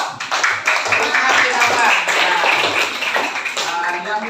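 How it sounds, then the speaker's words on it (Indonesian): A classroom of students claps for a study group named Usman bin Affan, producing a few seconds of uneven, moderately loud clapping with some voices mixed in. "Oke, tepuk tangan untuk kelompok Usman bin Affan."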